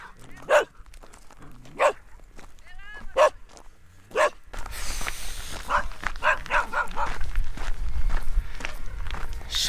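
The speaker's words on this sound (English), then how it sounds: "Shepherd dogs." Shepherd dogs bark in a series of sharp, spaced barks outdoors on a thru-hiking trail in Croatia, followed by louder shuffling footsteps and movement with faint voices.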